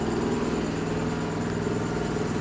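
Coffee dehuller machine processing robusta beans, DTI-assisted equipment in Davao Oriental, running with a steady, loud mechanical hum and low rumbling vibration, continuous and alone without talk.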